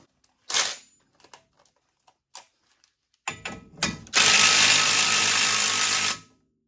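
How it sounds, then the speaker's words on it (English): A few faint clicks and taps, then a loud power drill whirs steadily for about two seconds removing a bolt before winding down and stopping. "I'm just going to go ahead and take it off with my drill just to make things a little faster"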